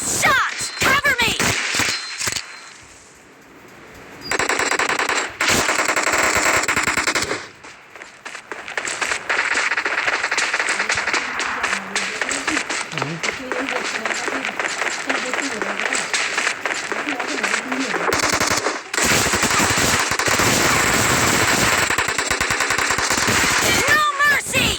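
M1014 shotgun fire in an arena match of Battlegrounds Mobile India, with dense bursts of loud repeated shots, brief pauses, game announcer voice lines and effects layered over them.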